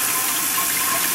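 Cold tap water running over strained chena curds in a strainer, a brief steady gushing rush, close and even throughout.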